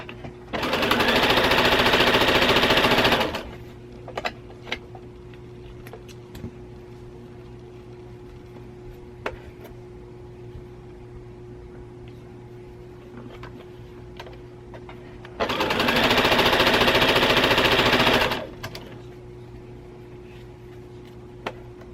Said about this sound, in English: I will sew my 3rd piece together